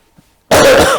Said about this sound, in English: Excuse me. Sorry about the cough.